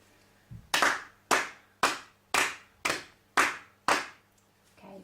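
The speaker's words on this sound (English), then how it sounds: "let's just clap these two bars again here" Seven crisp hand claps, close and evenly spaced roughly half a second apart, beat out two bars of rhythm in a beginner music lesson, in a quiet room with a faint shuffle at the start and end.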